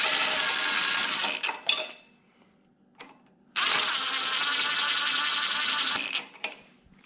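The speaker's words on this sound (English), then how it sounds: "Just gonna lightly hit them with this gun." A power impact gun whirs in short, high-pitched bursts while running down the cylinder head bolts on a Honda GX390 small engine. Two longer runs are split by a quiet gap and followed by brief clicks and blips.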